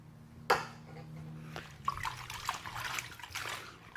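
Car wash concentrate poured into a bucket of water, with a sudden splash followed by steady trickling and gurgling liquid, close and moderately loud.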